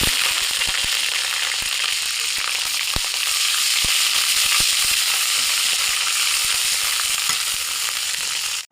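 Ginger garlic paste frying in a hot pan for a home-style egg and Malabar spinach curry, a loud, steady sizzle that lasts the whole stretch with scattered pops and crackles and no talk.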